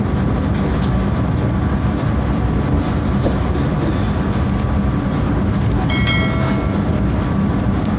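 Majapahit passenger train pulling out of Ngawi station at night, a steady loud rumble of wheels and carriages rolling close by, with a brief squeal partway through.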